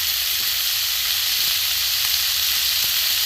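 Banana flower frying in a pan with chilli, coriander and cumin powders, a steady close sizzle running continuously without pause, no voices.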